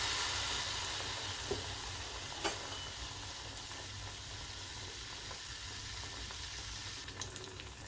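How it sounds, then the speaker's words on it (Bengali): Palm fruit malpua batter fries gently in oil over a low gas flame, a soft continuous sizzle with faint crackles and a few small clinks, quiet and close. "গ্যাসটা কিন্তু সিম করে আমি আস্তে আস্তে ভেজে নিচ্ছি"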